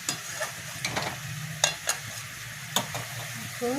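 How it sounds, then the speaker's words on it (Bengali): Soybean masala fries in a pan, giving a steady low sizzle broken by several sharp scraping clicks from a stirring spoon, close and distinct. "এবার এটাকে একটু ভালো করে কষাতে হবে আমাকে"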